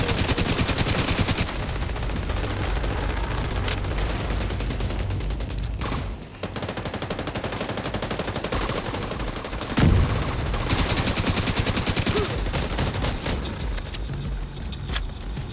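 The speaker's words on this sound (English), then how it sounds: "it's the machine gunner" An enemy machine gunner fires in a video game, a continuous loud rattle of rapid automatic gunfire with brief pauses and a few heavier booms.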